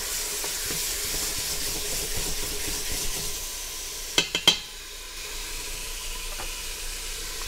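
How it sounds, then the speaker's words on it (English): Chicken and wild rice soup base simmers and sizzles in a pot over raised heat, a steady hiss under a spoon stirring, with a few sharp knocks of the utensil against the pot partway through. "Give it a stir."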